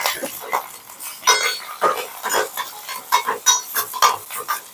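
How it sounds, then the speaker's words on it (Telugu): Grated carrot frying in oil with cumin, green chilli and curry leaves, heard as bursts of sizzling and scraping stirs in a quick, uneven rhythm, close and alone with no talk. "ఇందులోనే క్యారెట్ ఫ్రై చేసుకుంటానండి, మిర్చి వేస్తాను."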